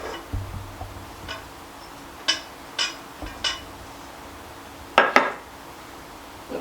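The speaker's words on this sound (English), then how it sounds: "Let's mix that up until the sugar's incorporated." A utensil mixing eggs, sugar and salt in a bowl for kolachki cookie dough produces sparse clinks and taps against the bowl, a few single knocks spread out with a sharper double clatter near the end.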